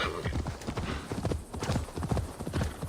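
A horse gallops in the video game Assassin's Creed Valhalla, its hooves beating out a steady, rapid clip-clop rhythm that stays close and fairly loud throughout.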